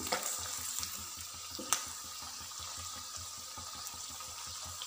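Egg snack pieces deep-frying in hot oil in a pan, one batch at a time: a steady, close, continuous sizzle and bubbling with no voices.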